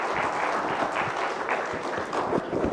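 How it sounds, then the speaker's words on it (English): Audience at a procurement and supply chain keynote event applauding to welcome a speaker, a dense, steady wash of clapping from a crowd, moderately loud and continuous throughout. "Everyone, with a very big round of applause, please welcome Mr. Rutvik Dave on the stage."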